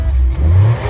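A Ford Mondeo ST200 with its 2.5 litre V6 engine revs briefly, a loud, close, low-pitched engine roar that swells and holds for under a second with no talk over it.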